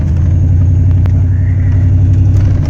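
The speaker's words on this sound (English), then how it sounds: "think I'm just bouncing off the fucking rev limiter" A Honda Si engine fitted with a Vortech V3 supercharger bounces off its rev limiter, a loud, steady, close droning roar with a couple of brief stutters and no talk.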